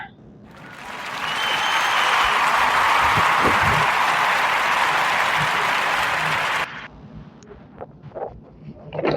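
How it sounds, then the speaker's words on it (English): A crowd breaks into sustained applause that swells and holds for several seconds, then tapers off into scattered claps and murmurs. "Give him a warm Narrative Podcast round of applause."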